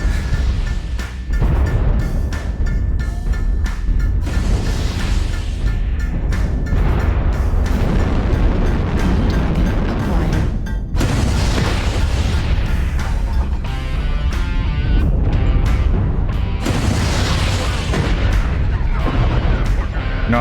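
Missile impacts and explosions from the mech combat game MechWarrior Online, a dense continuous barrage of booms and bursts lasting throughout, loud and close with no letup.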